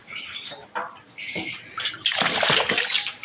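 Two white ducks at home splash and flap in water, with bursts of wet splattering and wing beats alongside a few squawks, close and fairly loud in short uneven bursts.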